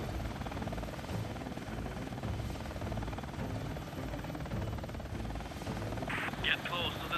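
Helicopter rotor noise from the Mi-24 Hind in the video game Air Missions: HIND, a steady loud continuous drone with a brief higher whine near the end, with talk over it.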